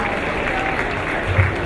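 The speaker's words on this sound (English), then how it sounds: "let's give him a huge round of applause" An audience at a live event at the High Commission of India in London breaks into dense, steady applause, loud and close, filling the whole moment without pause.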